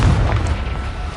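Confringo blasting spell going off in Hogwarts Legacy, a loud, close, booming explosion with a sustained low rumble that rolls on for about a second.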